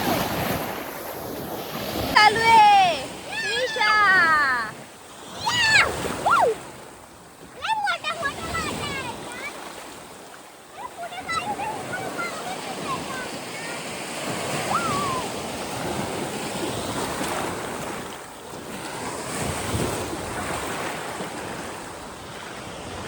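Surf rolls in at Radhanagar beach under heavy wind buffeting, a steady wash of waves with gusts of microphone noise while people talk over it.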